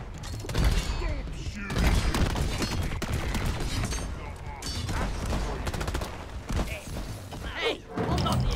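Rapid gunfire from the co-op mining shooter Deep Rock Galactic, sustained bursts of shots rattling steadily through the clip beneath voices talking over the action.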